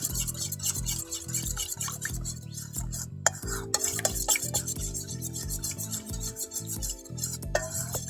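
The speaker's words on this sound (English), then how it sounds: "keep stirring until your honey has dissolved and broken up" A honey marinade stirred in a bowl at a campground, giving a steady rasping, scraping rub of utensil against bowl that runs throughout over a constant tonal background.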